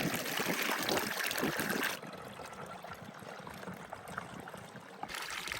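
Water trickles steadily into a watering trough at a trail water source, a soft continuous burble and dribble heard close by with outdoor ambience and no talk.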